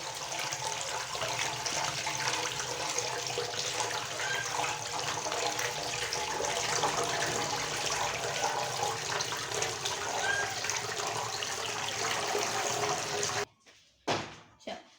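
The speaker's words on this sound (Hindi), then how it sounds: "अब इसे अच्छी तरह से हम करेंगे वॉश और फिर इसे खुश्क होने के लिए रख देंगे। अच्छी तरह से वॉश कर लेंगे हम इसे।" Tap water runs steadily over raw chicken being washed in a sink to make Pakistani chicken pakora, a constant close splashing hiss that goes on for about thirteen seconds, then cuts off, followed by a few faint handling knocks.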